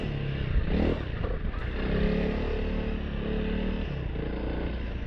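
A Honda CRF lightweight adventure motorcycle rides off-road in third gear with a steady engine drone, rattles and scrapes from the terrain, loud and close throughout with no voices.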